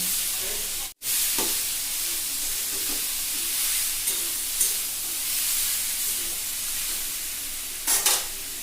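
Pieces of roti frying in a pan give a continuous close hiss and sizzle, broken by a brief gap and a few scraping stirs and clinks.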